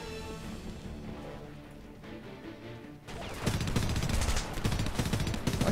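Gunfire in the first-person shooter game Homefront: after a quieter stretch, dense rapid shots break out loudly and keep going as sustained automatic fire mixed with crashing impacts.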